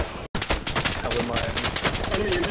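Rapid gunfire from the World War II shooter game Hell Let Loose crackles in dense, overlapping bursts of shots, loud and continuous after a brief silent gap at the start, with voices talking underneath.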